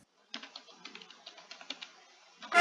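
Fingers type on a computer keyboard, a quick irregular run of light, close key clicks lasting about two seconds between short silences.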